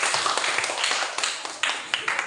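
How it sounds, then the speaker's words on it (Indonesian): A classroom of students applauds a presenting group: a short burst of sharp, uneven hand claps from a nearby crowd, with a few louder individual claps standing out before it thins. "Silakan kasihkan aplaus untuk kawan."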